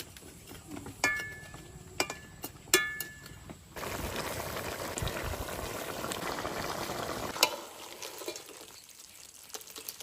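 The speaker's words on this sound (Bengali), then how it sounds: "একটুখানি জল দিয়ে দিয়েছি, এবার মিনিট 10 জাল দেবো, তাহলে আমার কাঁকড়া কষানো হয়ে যাবে।" Crab curry simmering in a pot as a thick spiced gravy with a little water, giving a steady bubbling sizzle mid-way, preceded by sharp clinks and taps and fading to quieter background.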